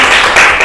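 Loud, dense applause from a lecture audience fills a brief moment, many hands clapping at once in a continuous roar with no gaps.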